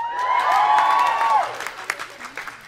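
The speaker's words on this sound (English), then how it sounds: "you can cheer again." Audience at a young-adult book fan festival cheering with loud whoops and applause that swell at first, then fade into scattered claps.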